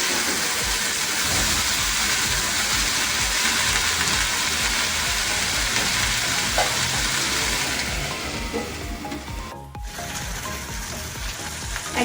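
Small mourala fish cooked as dopiaza fry noisily in a pan, a dense continuous sizzle mixed with gentle stirring, loud at first and softening toward the end with one brief break.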